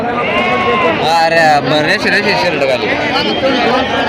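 Several sheep bleat repeatedly amid a busy crowd at a sheep market in Saykheda, with people talking and chattering all around at close range.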